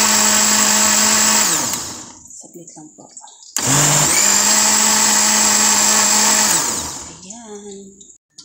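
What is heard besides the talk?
blender running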